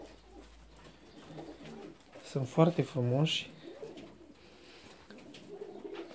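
Fancy pigeons cooing in a loft, including Rostov Red hens, a short run of soft low coos close by, with someone speaking around them.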